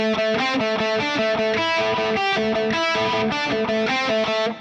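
A distorted electric guitar plays a pedal-tone pattern, a repeated low note alternating with a moving line of higher notes, in a fast, even rhythm that stays loud and continuous.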